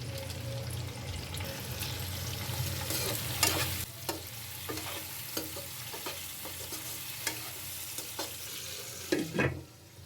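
Onions fry in a kadhai with a continuous, fairly loud sizzle. Scraping stir strokes and soft knocks come every second or so, and the sound ends with a louder stirring clatter.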